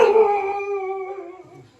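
A single dog howls close by, a long wavering tone that slowly trails off, with no voices around it.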